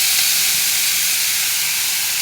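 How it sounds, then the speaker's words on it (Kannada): Plums hit hot oil in a pan on a gas stove, giving a loud, dense sizzling hiss that stays steady and close throughout with no voices. "ಈಗ ನಾನು ಒಪ್ಕೊಂಡಂಥ ಪ್ಲಮ್ ಹಣ್ಣನ್ನ ಆ್ಯಡ್ ಮಾಡ್ಕೊಳ್ತಾ ಇದ್ದೀನಿ."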